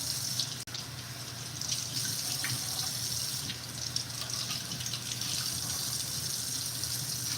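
Tap water runs steadily into a kitchen sink as food is rinsed under it, a continuous close hiss and splash with no talking.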